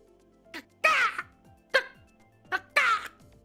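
A streamer's voice imitates a bird call with a few short squawky caws in a loose pattern, close and fairly loud against a quiet background.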